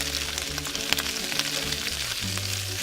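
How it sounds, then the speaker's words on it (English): Sausage and peppers frying in a pan, seasoned with salt and pepper, give a steady close sizzle with scattered crackles and spits throughout, with no talk. "Lower the heat in case if you feel it spitting on like this, lower it a little bit."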